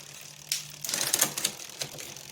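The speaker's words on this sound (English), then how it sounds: "let's see how it shifts up" Shimano Sora R3000 road bike shifter being tested on a Cannondale, a series of quick close mechanical clicks and ratcheting as gears shift up, faint and without talking.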